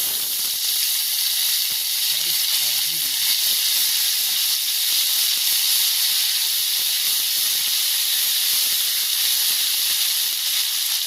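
Ginger-garlic paste with turmeric fries in hot oil for an egg paneer curry, giving a steady, loud sizzling hiss that runs unbroken throughout, with a few faint low clinks near the start.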